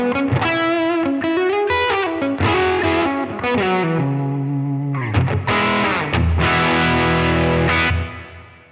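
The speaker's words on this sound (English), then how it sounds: "but this is just going through a reverb, and it sounds something like this." Electric guitar played through a Helix Voltage Queen amp model with reverb and the delays switched off, heard alone: sustained chords and single notes ringing out with a wash of reverb, loud and close, fading at the end.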